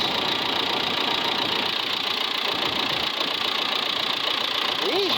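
A tractor engine idles steadily at close range with a constant broadband rumble and knock, running for over an hour while not getting above 180 degrees, its lower radiator hose cold; no voices.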